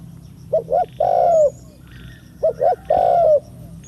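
Spotted dove cooing, a close, loud phrase of two short hoots followed by a longer drawn-out coo, given twice in a steady pattern over quiet background.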